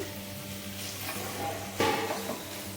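Fried dry fruits being stirred into bread halwa in a pan on the stove: a soft, steady sizzle with gentle scraping and a brief louder scrape of the spoon against the pan.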